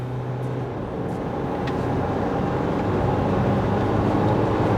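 A Mitsubishi Triton Prime rear-wheel-drive pickup cruises after a downshift, its steady engine drone and road rumble continuous and fairly loud throughout, with no voices.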